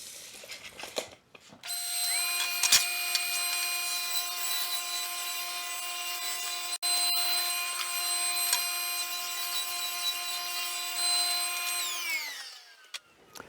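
Power saw ripping wood pieces for drawer pulls, a single sustained whining cut of about ten seconds with a steady tonal drone that winds down at the end, preceded by a few knocks.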